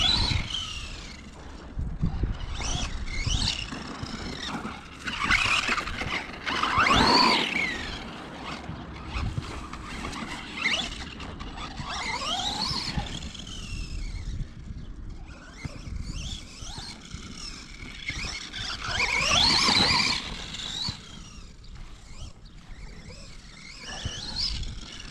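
A Funtek STX brushless RC car fitted with new shocks and tyres whines as it accelerates and brakes, its gears giving a high pitched rising and falling shriek in repeated throttle bursts, close by and fairly loud.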